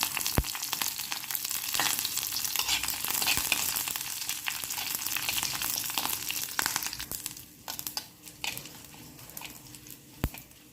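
Mustard seeds and curry leaves crackling in hot oil in a pan while tempering for vada curry, a dense sputtering sizzle with sharp pops that settles into a quieter fry near the end.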